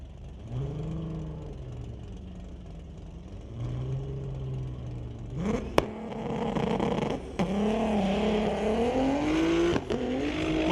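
Street-legal Volkswagen drag cars, a Golf among them, rev and launch at a raceway, engines rising in pitch through repeated gear pulls, loud and close, with sharp bangs as they leave the line.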